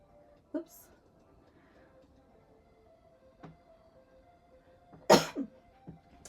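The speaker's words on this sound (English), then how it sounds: "all of a sudden I'm having a coughing fit" A person with a cold coughs during a live painting session, with a few short coughs spread out and then a sharper, louder cough burst near the end, close to a quiet background.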